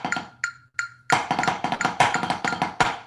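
A knife chops on a cutting board in a fast duple rhythm at 180 beats per minute: after a few sparse opening strikes, a dense run of crisp, even, close taps follows.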